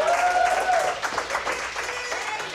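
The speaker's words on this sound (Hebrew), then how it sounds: "עשנו כפיים גם לאח שלי, לעידו." Audience clapping at a live show opening rises as a mid-level burst of applause, with a voice carrying briefly over the start.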